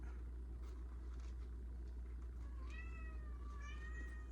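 A cat on a farm gives two short meows close by, heard faintly over a constant low engine-like hum in a home setting.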